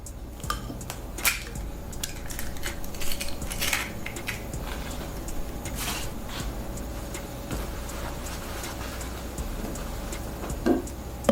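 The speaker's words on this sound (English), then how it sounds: "I'll start off by cracking my eggs here." Eggs are cracked against a bowl or pan edge, giving a few sharp, close taps and shell crunches spread out over a quiet kitchen background.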